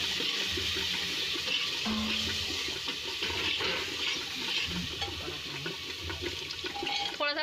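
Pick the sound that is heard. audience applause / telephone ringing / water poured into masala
water poured into masala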